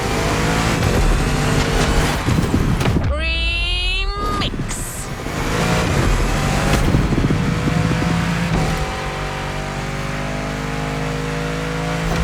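A GT supercar engine in The Crew Motorfest racing game revs hard and loud, rising in pitch through the gears, with a sharp whine as it climbs and then settles into a steady, droning cruise.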